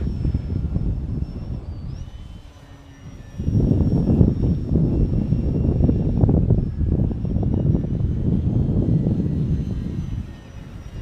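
A small FT Mustang model airplane flies overhead on its maiden flight. Its electric motor drones steadily at moderate loudness, with some wind rumble and a thin whine running through.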